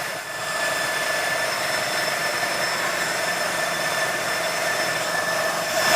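A JTS air compressor runs continuously at close range, a loud steady mechanical drone with a high whine and even hiss, unchanging throughout with no speech.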